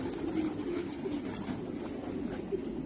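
Low, rolling coos come from a flock of domestic pigeons in a loft, a close and continuous murmur with no voices over it.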